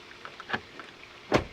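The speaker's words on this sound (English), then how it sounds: "With electronic door handle where you put your hand in, push the button, and it opens." A Lexus RX 350 door with an electronic e-latch button release pops open, giving a soft electric click followed by a solid, firm thunk of the latch releasing, heard up close in a quiet setting.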